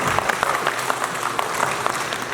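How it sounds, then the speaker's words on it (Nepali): An audience at a Nepali cultural gathering of artists claps together in a brief, dense burst of applause, steady and fairly close. "तपाईँलाई अल्छी लाग्दैन भने एउटा ताली बजाइदिनु"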